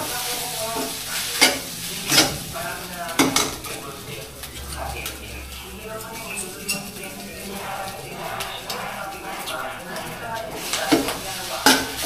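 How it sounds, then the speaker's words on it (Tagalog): Food sizzles in a frying pan while a utensil stirs and scrapes against the metal with occasional clinks, close and continuous throughout. "Lutuin pa natin ng konti. Pero luto na yan."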